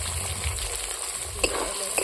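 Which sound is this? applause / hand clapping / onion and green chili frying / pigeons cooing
onion and green chili frying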